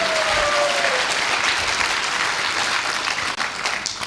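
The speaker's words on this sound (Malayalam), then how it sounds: "ഒന്ന് കൈയടിക്കും." An audience clapping, a sustained burst of dense applause from many hands that holds steady for several seconds before thinning slightly.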